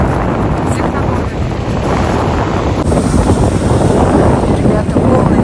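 Very strong wind buffets the microphone at the seaside in Lazarevskoye, a steady loud roar with waves and surf rumbling underneath throughout, continuous and unbroken from start to finish.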